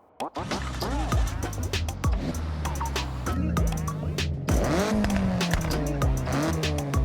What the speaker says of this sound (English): definitely hear an Altezza's driving around with that tone on their exhaust a lot around here